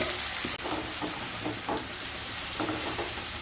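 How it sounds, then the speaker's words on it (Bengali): Raw papaya pieces fry in a pan with salt and turmeric, giving a dense, close sizzle of hot oil with scattered pops and light stirring scrapes and no voices. "পেঁপেগুলোকেও হালকা ব্রাউন কালার করে ভেজে নিয়ে তারপর ফিরে আসছি।"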